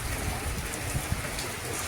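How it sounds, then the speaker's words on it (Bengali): Rain falls outside a home in a steady, even hiss with no clear breaks, fairly soft and continuous throughout, with no one speaking. "বৃষ্টি হচ্ছে তো"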